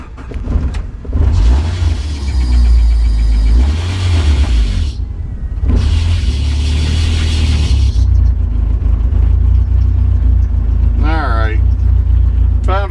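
A 1987 Jeep Comanche pickup with a fuel pump wiring fault rumbles loudly and steadily as the engine cranks and tries to start, with brief pauses and a voice speaking over it.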